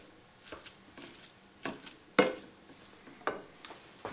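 Hamburger meat is broken up and browned in a pan, with a soft sizzle under a few scattered scraping and tapping knocks from a utensil, some sharper than others.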